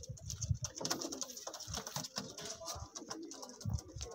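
Several pigeons coo in low, repeated bursts at a loft near Amritsar, loud and close, with a steady high hiss and scattered bird chatter behind.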